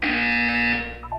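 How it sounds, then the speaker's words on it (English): A loud electronic buzzer from the video game Portal 2 sounds in one sustained, harsh tone for about a second, then fades into a few softer tonal blips. "When you hear the buzzer, look up at the ceiling."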